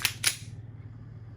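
A gas-powered custom WE Glock 35 airsoft pistol fires two quick sharp shots a fraction of a second apart during a velocity check, close and crisp, followed by quiet.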